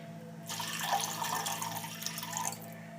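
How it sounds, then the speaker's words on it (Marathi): Water is poured into a pan for ragi halwa in a steady splashing stream lasting about two seconds, then stops. "आता या भुतूर मी अजून एक ग्लास पाणी घेतोय."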